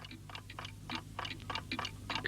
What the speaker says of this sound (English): Clocks everywhere.